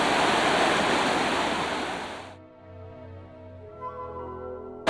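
Rushing water at Trümmelbach Falls, a glacier-fed waterfall near Lauterbrunnen, roars loud and close for about two seconds, then cuts out to near silence with faint low tones.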